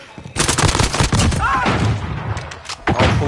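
Bursts of automatic gunfire from a Call of Duty Warzone firefight crackle loudly for several seconds, with heavy thumps and short gaps between volleys.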